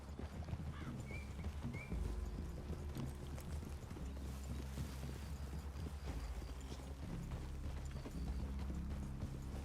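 Horses walk through a clearing in Red Dead Redemption 2, their hooves clip-clopping in a steady, close rhythm over a low ambient rumble, with a brief whinny-like tone early on.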